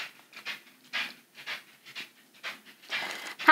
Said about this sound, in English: if you hear the scratchy sound in the background, that's my dog